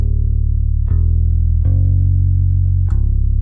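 A steady, buzzy synthesized bass line for a pop rock track, made in FL Studio, holds sustained low notes, shifting pitch every second or so, with a thick electronic tone and no talking.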